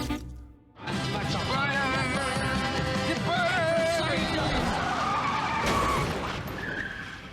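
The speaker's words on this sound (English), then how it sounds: "This scene where McNulty takes 2 goes to smash up his car." A car skids and is smashed up in a TV drama scene, with a sustained loud screech of tires and crunching impacts over a dense, noisy mix of engine roar and clatter.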